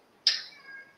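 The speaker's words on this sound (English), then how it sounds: "Apparently a cat between my legs." A house cat close by gives one short, sharp meow that trails off over about a second, with a quiet room behind it.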